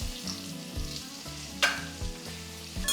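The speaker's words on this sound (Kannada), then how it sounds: "ತುಪ್ಪದಲ್ಲಿ ಎಲ್ಲ ಐಟಮ್ಸು ಫ್ರೈ ಆಗ್ತಾ ಇರೋದ್ರಿಂದ ಒಳ್ಳೆ ಘಮ ಚೆನ್ನಾಗಿ ಬರ್ತಾ ಇದೆ." Chopped onion and spices fry in hot ghee for bisi bele bath, a steady close sizzle with rhythmic stirring knocks of a spoon against the pan and one brighter scrape, without any talking.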